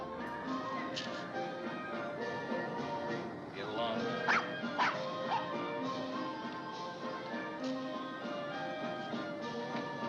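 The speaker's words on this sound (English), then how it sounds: "we're showing him looking at Thorwald scolding a dog." A dog yelps, barks and whimpers in a scene from the Hitchcock film Rear Window, several short bursts rising over a dense background of voices and music, moderately loud and mid-distance.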